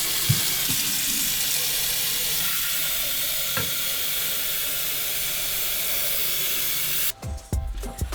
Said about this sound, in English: So now I'm gonna fill this up with water.